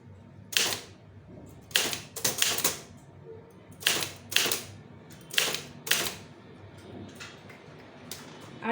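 Typing on a keyboard for a Tamil-language official letter: short bursts of sharp, close key clicks in irregular clusters separated by quiet pauses, with no talking.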